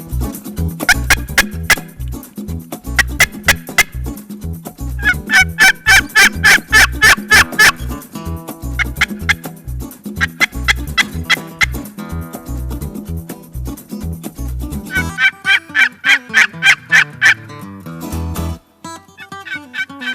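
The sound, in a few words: wild turkey gobbler gobbling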